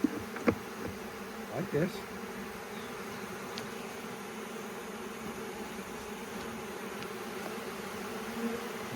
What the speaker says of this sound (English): we've got bees here in the front